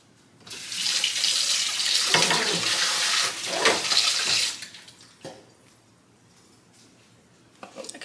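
Tap water runs steadily into a sink while a matcha-making utensil from a home matcha kit is rinsed, a close, hissing splash lasting about four seconds before stopping, then faint clinks and handling noises.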